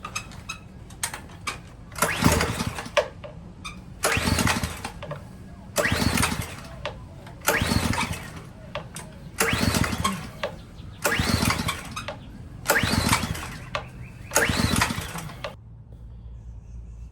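A Ryobi pressure washer engine with a faulty carburetor, set on choke, is pulled over again and again: about seven separate bursts of cranking and sputtering, each roughly a second long, spaced a couple of seconds apart, close and loud, and the engine never keeps running.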